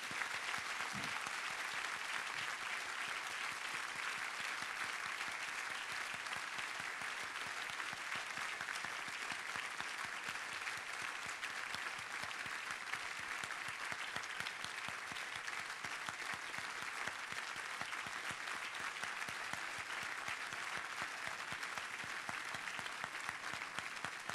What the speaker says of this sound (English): How about joining me in a round of applause for these folks?